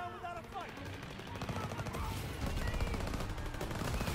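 Rapid automatic gunfire from a World War II video game, a dense sustained burst of shots that grows louder toward the end, with brief voice fragments mixed in near the start.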